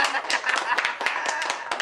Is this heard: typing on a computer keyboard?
no